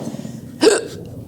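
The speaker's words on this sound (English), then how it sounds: "I have the hiccups this morning" A single sharp hiccup bursts out near, loud and brief, over a quiet indoor room with no talking.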